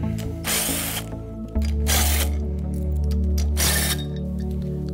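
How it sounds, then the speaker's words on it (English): A power tool whirs and ratchets in loud, continuous bursts while removing the hub cap from a unitised wheel bearing on a trailer axle, close up, with no talk. "First, we remove the hub cap."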